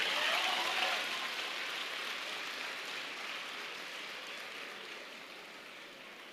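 Applause from a teen audience at a self-belief conference: a broad, steady wash of many hands clapping at once. It is fairly distant and fades gently over several seconds, with no talk over it.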